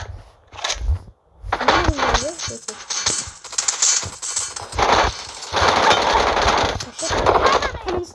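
Rapid bursts of automatic gunfire from a video game, loud and close, arriving in several clusters separated by short pauses, with a voice talking excitedly among the shots.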